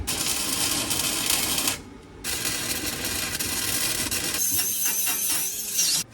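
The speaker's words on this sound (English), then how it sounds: "Put the old welder here to the test." A welder welding a roll cage into a Pontiac Grand Prix, giving loud, continuous crackling and sizzling arc noise with one short pause before it resumes, no talking.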